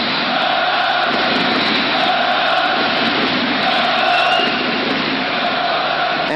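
A hockey crowd in a Munich arena cheers at the 1993 World Championship game between Russia and Germany, a loud, continuous roar that swells slightly midway and never breaks.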